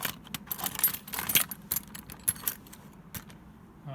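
Vintage car keys from a collection, including keys for a 1994 Buick LeSabre, jangle and clink together in a busy run of metallic rattles, close and fairly loud, tapering off toward the end.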